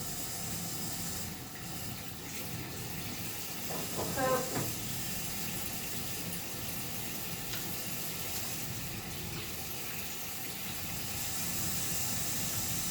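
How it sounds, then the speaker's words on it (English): A tap runs water for handwashing, a steady soft hiss lasting throughout, with a brief splashy patch as hands go under the stream and a person speaking over it. "we're going to turn on the water, wet our hands"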